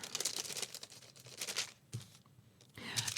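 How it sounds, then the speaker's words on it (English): Parchment paper crinkles and rustles in bursts during vintage-style Christmas tag crafting, close and fairly quiet, with brief pauses between handlings and no talking. "Does anybody else like the sound of the parchment paper?"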